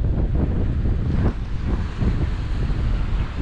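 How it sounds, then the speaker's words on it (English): Large ocean waves crash and surge near a fishing pier at Port Aransas, with strong wind buffeting the microphone in a loud, continuous, roaring wash. "The waves are giant."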